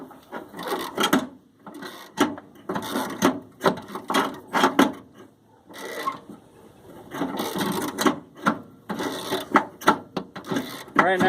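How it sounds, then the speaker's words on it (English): Ratcheting and scraping clicks come in quick bursts as a nut is run down onto a bolt with an extension while fixing the headlight ground wire on an S10 Blazer, close and moderately loud, with short pauses between bursts. "Right now I'm just trying to run that nut down on the bolt"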